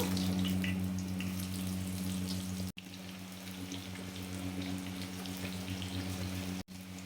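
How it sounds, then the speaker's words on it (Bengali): Potatoes fry in oil for chicken biryani, a soft continuous bubbling and crackle over a low steady hum, with two brief sharp dropouts along the way. "আমি আলুগুলোও ভেজে নেবো"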